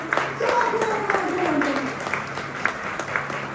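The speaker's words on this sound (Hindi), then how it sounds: "कम ऑन हस्बैंड अपने अपने तोहफों के लिए तालियां बजाइए।" Husbands in a church marriage seminar audience clap together, a moderate ripple of applause with scattered sharp claps while a voice carries on over it.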